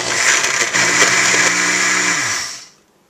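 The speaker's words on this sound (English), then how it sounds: "Cover and blend." A countertop blender runs loud and steady, blending spinach, half a frozen banana, frozen blueberries and water into a green smoothie, its motor pitch shifting once early on before winding down and stopping near the end.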